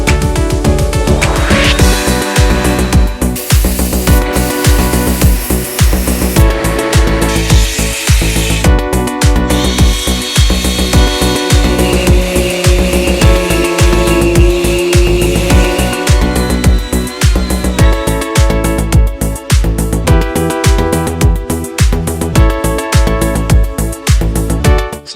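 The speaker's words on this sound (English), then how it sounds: "I'm gonna start sanding this thing and see how we did." Continuous loud sanding of a walnut ash tray, a steady close abrasive rasp with a rhythmic texture that runs throughout, with no talk.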